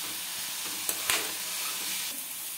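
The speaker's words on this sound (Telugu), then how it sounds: "ఆ మరమరాలను ఇందులో వేసేసి మొత్తం కలిపి మళ్ళీ ఒకసారి కలిపి" Soaked puffed rice being stirred into a sizzling frying pan mixture, a steady loud hiss of frying with a few sharp spatula scrapes, close and alone without talk.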